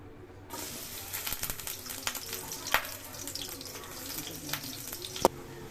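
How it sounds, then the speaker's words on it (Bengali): Chopped onions go into hot mustard oil for a Bengali tengra fish curry, giving a steady broadband sizzle with scattered crackles and a couple of sharper pops, close and moderately loud, with no talking. "দিয়ে দেব এখন সরিষার তেল, দিয়ে দেব কেটে রাখা পেঁয়াজ"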